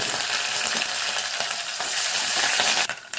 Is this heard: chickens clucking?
no